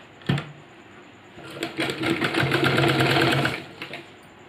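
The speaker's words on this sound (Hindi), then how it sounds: "अब इसमें से यहाँ हम लोग को सिलाई लगा लेनी है, यहाँ से लेकर एंड से लेकर उस एंड तक।" A sewing machine stitching pieces of girls' pants, with a short burst of needle clatter followed by a longer, rapid run of stitching that stops abruptly, heard close up with no voices.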